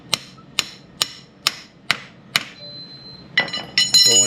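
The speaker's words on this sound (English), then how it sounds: "so that way we can just hammer this through" A hammer drives a U-joint through its yoke on a vehicle driveshaft. Six sharp, evenly spaced metallic blows ring out loudly, followed by lighter clinking and rattling of metal parts.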